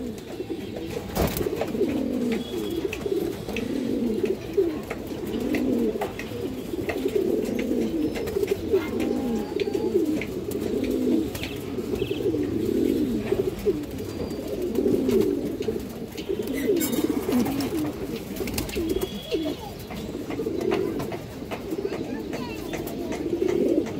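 Black-necked pigeons coo in repeated, overlapping low calls, close and continuous, with occasional voices and handling noises nearby.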